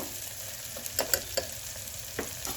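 Onion and tomato sautéing in a pan while being stirred, with a soft continuous sizzle and several light spoon taps and scrapes at irregular intervals, close and moderately quiet.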